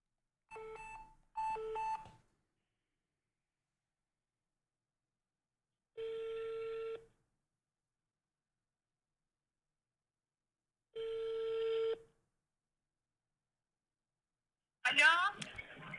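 Telephone call being placed: a short burst of dial tones, then two evenly spaced ring tones with long silences between, ending as a voice answers the call.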